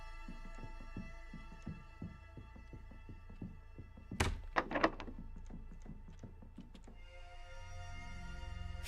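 A stuck fridge door in the game Look Outside thuds several times in a tight cluster, loud and close, over a low steady hum with soft rhythmic tapping before and after.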